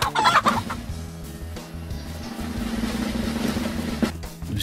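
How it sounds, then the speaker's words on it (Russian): A chicken clucks in the video game DayZ, its short fowl calls rising at the start over a steady low ambient hum, followed by quieter clucks and a faint sharp tap near the end. "Я слышу курицу."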